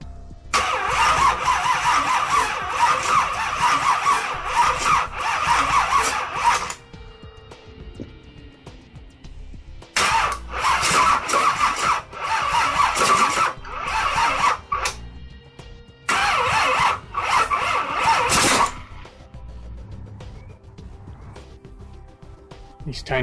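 A high-torque mini starter with a new 800 cranking amp battery laboriously cranks a big block engine in three long, loud bursts separated by quiet pauses, with someone talking in between.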